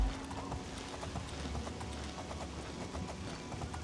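Horse hooves clip-clopping in the game Oblivion, a steady run of soft footfalls over a low ambient rumble, moderately close and continuous throughout.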